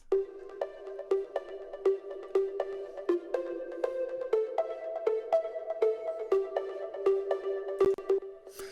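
A synth lead plays a plucky, stepping riff modeled on the original track's riff, set within an organic house production; bright repeated notes ring out over a steady sustained bass tone, loud and alone with no voices.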